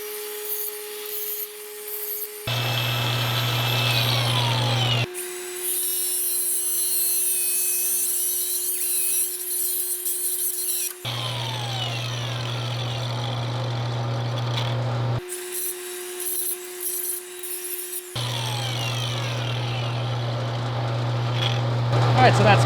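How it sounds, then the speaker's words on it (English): A Duodisc cutoff wheel cuts through square steel tube and then grinds its edges, a loud abrasive whine in alternating long bursts with brief pauses between passes, close up and continuous. "I'll do a cut in some square tube, show you how I can grind these edges nice"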